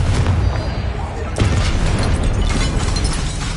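Confringo explosion spell cast in the Hogwarts Legacy video game, a dense booming burst with a sharp blast near the middle, surrounded by continuous loud game noise and rumbling effects.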